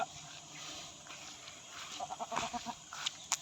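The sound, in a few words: goats bleating in the jungle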